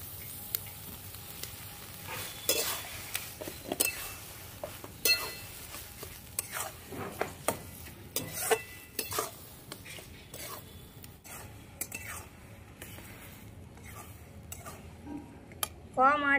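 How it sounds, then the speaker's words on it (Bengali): Mashed cabbage paste is stirred in a pan to dry it out, with repeated scraping strokes of a utensil against the pan over a low sizzle and a few knocks. "বাঁধাকপি বাটাটা নেড়ে নেড়ে শুকিয়ে নিতে হবে"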